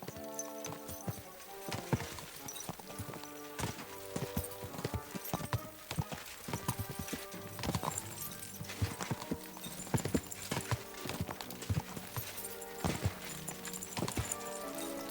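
Rhythmic clip-clop of horse hooves trotting steadily in the video game Kingdom Come: Deliverance 2, with music and game sounds layered throughout and no talking.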